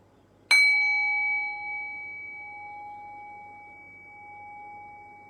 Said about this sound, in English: Allow the fade of the bell to guide your awareness